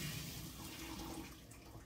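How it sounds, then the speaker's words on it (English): Cooked broccoli and water poured from a pot into a strainer in a kitchen sink, a soft steady splashing rush lasting a couple of seconds, quiet and close with no talk. "I'm going to strain it, the broccoli, into a strainer here."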